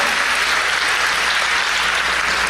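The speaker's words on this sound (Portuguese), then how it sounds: "Você pode aplaudir a Ele?" A church congregation bursts into steady, dense applause, a continuous wash of many hands clapping at once, loud and sustained throughout.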